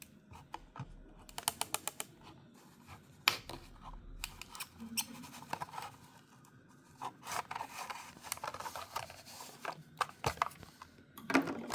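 A Hot Wheels Nissan 300ZX Twin Turbo blister-card package is unboxed with crisp crinkling, tearing and scraping of plastic and card in scattered bursts, close and fairly quiet, with no talking.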